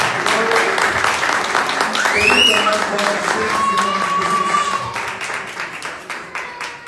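A church congregation applauds during a Sunday sermon, loud crowd clapping with cheering voices and shouts over it, thinning into scattered claps near the end.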